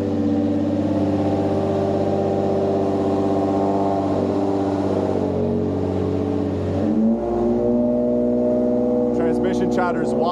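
A tuned car engine accelerates hard in fourth gear, with a loud sustained roar rising steadily in pitch, then a brief dip at a shift or lift before climbing again, heard close and continuous throughout.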